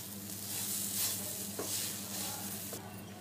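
Semolina roasts with chopped vegetables, tomato and spinach in a pan, giving a soft, steady sizzle with scraping strokes of a stirring spoon, fairly quiet and without talk.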